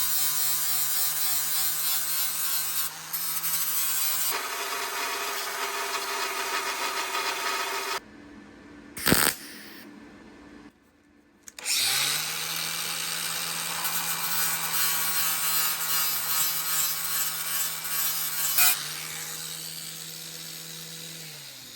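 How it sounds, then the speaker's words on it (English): A power grinder works back welds on a car body panel, a loud high whine and rasp that runs steadily, stops briefly with a clunk, then spins up again and continues. "now we're going to grind these welds back"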